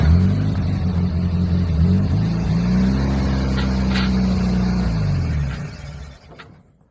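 A junkyard Chevy S10 truck engine runs loud and close, idling with a rough steady rumble, briefly revving, then shutting off and fading to quiet near the end.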